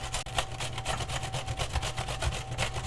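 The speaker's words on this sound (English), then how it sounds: "I'm going to grate the cucumber right into the bowl on the large grating side of the box grater here" A cucumber is rubbed against the large holes of a box grater, giving a steady series of close, rasping scrapes in quick rhythm, with no talking.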